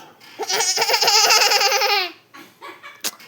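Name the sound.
child imitating goat bleat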